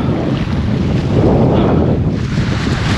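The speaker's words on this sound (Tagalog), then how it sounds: "Sarap pakinggan ng ano no, ng agos ng yung alon" Loud, continuous rushing of ocean waves and surf mixed with heavy wind buffeting the microphone, steady and close, no voices.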